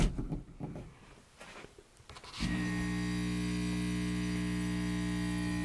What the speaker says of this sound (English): you can actually hear the liquid in there shaking, it being sucked into the tube, pushed into the HVAC unit